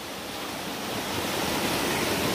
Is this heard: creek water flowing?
yes